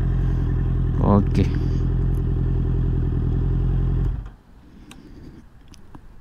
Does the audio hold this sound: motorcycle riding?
yes